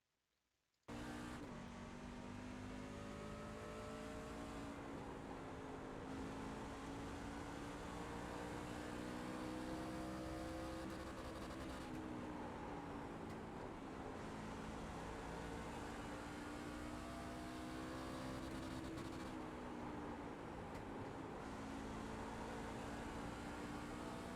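A C Fixed truck runs a full quick lap of Bristol in the iRacing sim, its engine droning loud and steady with rising and falling pitch through the banked turns, alone with no talking.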